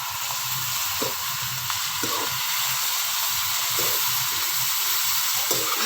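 Green chillies and tomatoes sizzle steadily in a pan of onions, a constant hissing fry with a few soft knocks from stirring, close and even throughout.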